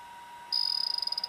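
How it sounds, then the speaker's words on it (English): A Wi-Fi Ranger unit in a Class A motorhome powering up after its fuse is reset, giving a steady high electronic tone followed by a quick run of rapid, evenly spaced beeps, close and fairly quiet over a faint hum. "you'll hear the Wi-Fi Ranger come online"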